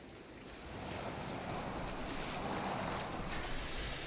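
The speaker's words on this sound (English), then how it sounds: "Are you well enough to steer this boat?" A boat sailing across open water in Assassin's Creed Valhalla: a continuous wash of waves and rushing wind, swelling slightly after the first moment and staying steady, with no speech.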